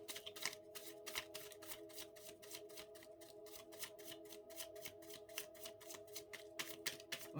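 Tarot cards being shuffled, a steady run of quick papery riffles repeating evenly throughout, close and moderately loud against a faint steady tone, with no talking.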